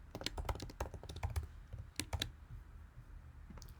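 Quiet clicking of a computer keyboard as a username and password are typed, an irregular run of light key taps with brief pauses, close but faint and with no one speaking.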